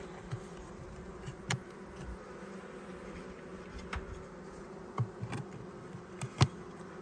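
A honeybee colony at an opened hive gives a steady low hum of buzzing, with a few bees passing close by in brief louder swells, no talking.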